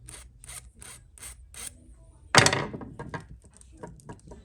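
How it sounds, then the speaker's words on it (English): Close, rhythmic strokes of a hand file deburring the edge of a piston ring for a boosted Scat Pack engine build, about five rasping passes followed by a louder scrape and lighter filing scratches. "So now, just gonna deburr the edge."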